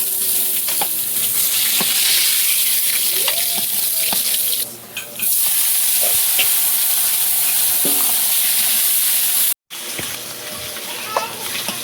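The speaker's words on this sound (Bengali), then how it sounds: "মাছটা সুন্দর করে লাল করে ভাজা হয়ে গেছে" Pieces of pond rohu fish fry steadily in hot oil in a home kitchen in the Sundarbans, a continuous close sizzle broken by a brief dip, with a little background activity.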